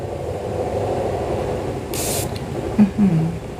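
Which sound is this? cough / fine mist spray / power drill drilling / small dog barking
fine mist spray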